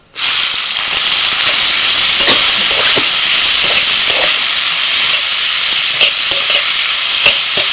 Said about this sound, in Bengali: এবার তেলের মধ্যে ফোড়নে দিচ্ছি 2টো তেজপাতা, 2টো শুকনো লঙ্কা আর অল্প একটু গোটা জিরে।